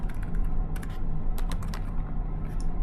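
Computer keyboard typing, quick light clicks in short bursts, close and clear over a steady low hum.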